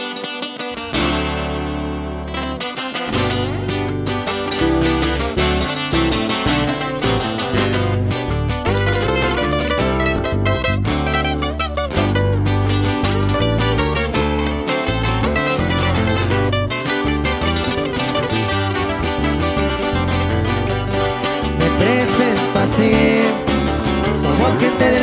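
Band playing a cover of a regional Mexican song, full and loud with steady rhythm section and melodic lines after a brief opening gap.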